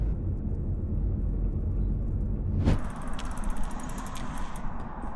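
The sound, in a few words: car driving during a chase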